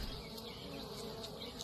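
Many bees swarm around honey being extracted from crushed cappings in a backyard, a dense, steady buzz close by with individual insects passing near.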